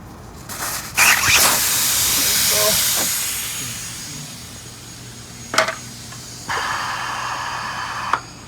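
Air rushes out of a tire once its valve core is pulled, a loud hiss that fades over a few seconds, followed by a few sharp clanks and a short renewed burst of hissing.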